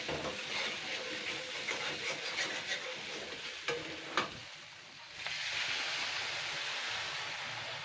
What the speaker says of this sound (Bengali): যে ডালের জলটা ফেলিনি সেই ডালের জলটা আমি দিয়ে দেবো এতে